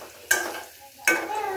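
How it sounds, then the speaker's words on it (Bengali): Peeled boiled eggs fry in a pan with a soft background sizzle, broken by two sharp stirring scrapes about three quarters of a second apart. "এখন ডিমগুলো ভেজে নিব।"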